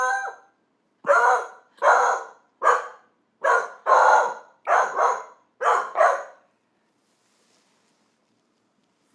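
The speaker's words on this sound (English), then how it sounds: "He's such a little dog, but he has the strongest bark ever." A small dog lets out about seven loud, sharp barks in an evenly spaced run, close by, then falls silent.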